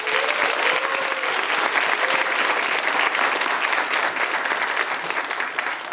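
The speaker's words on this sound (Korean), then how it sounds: "우리 교수님들에서 박수 한번 칩시다" Sustained applause from an audience at a nursing school's Nightingale pledge ceremony, honoring the nursing professors; dense, steady clapping fills the whole stretch at even loudness.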